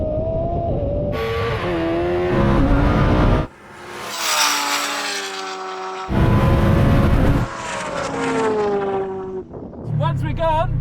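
Lamborghini Huracan Turbo and Kawasaki H2R race, loud engines roaring and revving through the gears close by, shifting pitch as they accelerate, with voices talking over and between the bursts.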